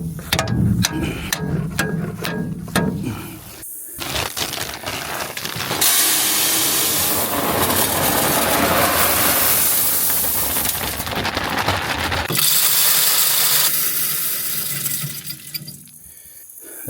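A MB Ranchking Avenger deer feeder, about six years old, runs its spinning mechanism in a loud hissing, whirring burst lasting several seconds, with rattling mechanical clatter before and after and no talking.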